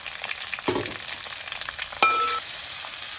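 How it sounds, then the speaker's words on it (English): Shallots, about 250 grams, tip into a hot pan and sizzle softly while frying, with a sharp metallic clink of a utensil partway through and no talking. "Now we are adding about 250 grams of shallots"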